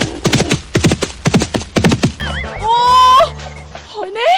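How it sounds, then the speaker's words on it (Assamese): A horse gives a loud, close, wavering neigh. It follows a quick run of rhythmic beats that may be hoofbeats or a voice. "এইটো কাৰ ঘোঁৰা লৈ আহিল?"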